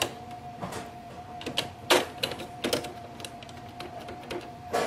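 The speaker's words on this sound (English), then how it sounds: "Install all the 4 ink cartridges." Ink cartridges click and snap into place inside an Epson WorkForce WF-2860 printer, a series of sharp plastic clicks and knocks over a faint steady hum.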